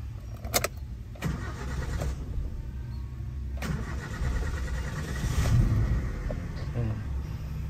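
A 1995 Suzuki Sidekick engine cranks and starts with the door open, a loud low rumble settling into a steady idle after several starter bursts.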